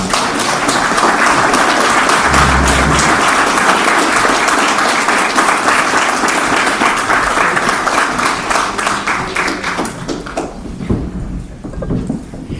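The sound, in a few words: audience applause at a debate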